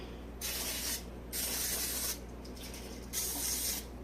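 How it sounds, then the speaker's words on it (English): Three short bursts of hissing spray from a butter-flavor cooking spray can onto shrimp and mussels, each under a second, close by with brief pauses between. "So I'm taking the butter flavor cooking spray from Clover Valley and just spraying each one with a light,"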